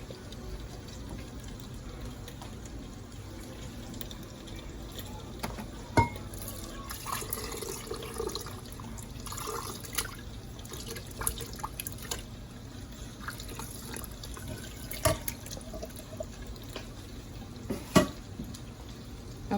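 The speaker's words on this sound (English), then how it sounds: "Go ahead and pour everything in my blender." Simmered salsa verde ingredients pour into a blender with soft, continuous liquid sloshing and occasional drips and small clinks, quiet and close.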